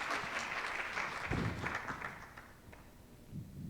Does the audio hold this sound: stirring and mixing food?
no